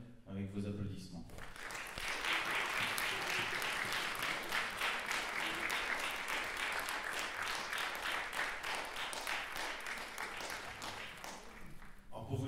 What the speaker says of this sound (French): accueillir la réalisatrice Laura Vendel avec vos applaudissements